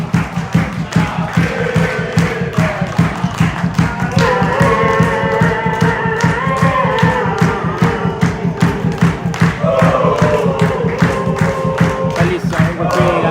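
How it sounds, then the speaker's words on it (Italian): Two rival sets of football supporters at the Matranga stadium fill the air with loud, continuous rhythmic chanting, steady clapping beats and cheering throughout, a dense sustained crowd roar during a Castellammare–Marsala Coppa Italia Eccellenza Sicilia match. "Bellissima qui l'atmosfera al Matranga con due tifoserie che si rispettano e che stanno davvero dando il meglio di sé"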